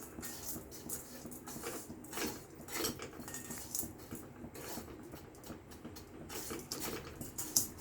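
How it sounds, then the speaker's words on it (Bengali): A spoon scrapes and clinks repeatedly against a pan while tea with melting sugar is stirred, a busy run of metallic taps and rattles at close range, with no voices. "আমি এইভাবেই নেড়ে যাচ্ছি। এইভাবে অন্তত 2 থেকে 3 মিনিট এইভাবে নেড়ে যেতে হবে এটা।"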